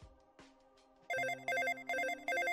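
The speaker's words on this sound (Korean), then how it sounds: "휴대전화가 시끄럽게 울리고" After a few soft clicks, a mobile phone rings loudly nearby. Its electronic melodic ringtone repeats in four evenly spaced bursts and carries on steadily on its own.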